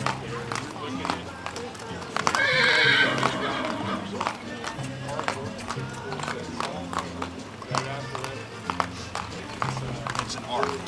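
An Andalusian horse gives one loud whinny early on, then its hooves clip-clop in an irregular rhythm while people talk over the top.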